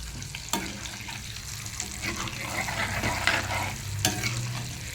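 Eggs fry in oil with a pinch of turmeric, a steady close crackle and sizzle with sharp clinks of utensil on pan near the start and end, no talking.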